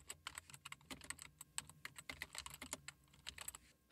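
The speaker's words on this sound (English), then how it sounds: "In this box, type in the URL to your website." Fingers type on a computer keyboard, a quick, quiet run of close, irregular key clicks with no pauses.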